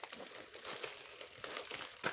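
Close, soft crinkling of a plastic bag being pulled open with irregular rustles and a sharper crackle at the end, quiet and with no voices.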